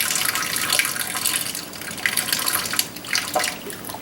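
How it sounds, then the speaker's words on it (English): Pasta water pours steadily from a pot tipped with its lid partly on, draining into a kitchen sink as a continuous close splashing gush with no talking. "semi-put the lid on the pot and then let all the water drain like that"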